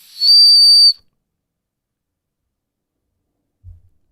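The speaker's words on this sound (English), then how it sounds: "That's a pretty good whistle," A person whistles through the mouth by sucking air in, giving one shrill, steady high tone lasting under a second, followed by silence and a faint low thump.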